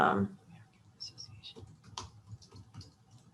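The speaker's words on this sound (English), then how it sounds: "I'm typing in here" Typing on a computer keyboard produces a few light, scattered key clicks just after a louder opening thump, with faint speech in the background.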